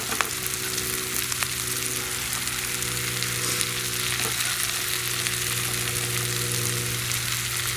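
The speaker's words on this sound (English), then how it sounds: "Now I'm going to start throwing the Kielbasa in there." Polish kielbasa fries in oil and butter in a pan on a wood gas stove, giving a steady close sizzle over a low burner hum, with occasional small pops and stirring clicks.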